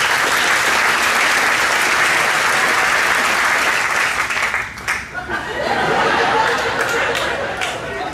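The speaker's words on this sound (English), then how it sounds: "If you take a bow, they should clap, right?" Dense, loud audience applause fills a magic theater after performers take a bow, then thins out midway as the crowd settles into scattered claps, murmured chatter and light laughter.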